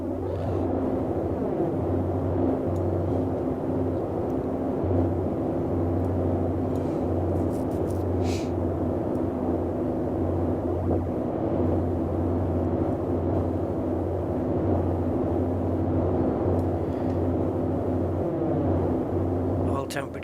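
Twin propeller engines of a Boeing 247D airliner in Microsoft Flight Simulator, holding a steady, low, throbbing drone throughout with no change in pitch.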